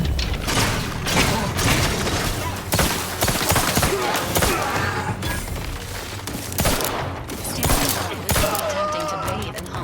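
Rapid bursts of gunfire fill a firefight in the video game Outer Worlds 2, loud and dense shots rattling over each other with brief gaps amid clanks and impacts, a voice faintly talking underneath.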